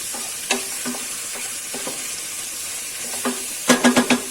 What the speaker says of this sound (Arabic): من بعد ما تشحرت البصله واللون ديالها ولا ذهبي